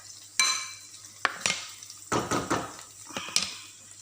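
Eggs cracked into tuna frying in a pan, with sharp taps, scraping of a spatula and bursts of sizzling oil, close and uneven in rhythm, with no talking.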